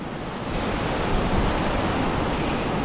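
Sea surf washes steadily onto the shore of an isolated, uninhabited island, a continuous close roar of breaking waves with no voices.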